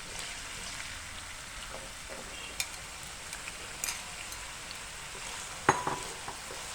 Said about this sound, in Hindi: जिस ऑयल में हमने भिंडियाँ जो है उनको फ्राई किया है उसी ऑयल में हम आलू भी जो है उनको भी फ्राई करके रख लेंगे